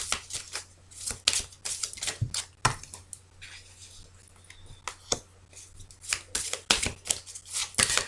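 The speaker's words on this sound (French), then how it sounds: "je vais remettre quand même quelques cartes" Tarot cards being shuffled and laid out: repeated quick riffles and flicks come in irregular bursts, close and fairly loud, with short pauses between them.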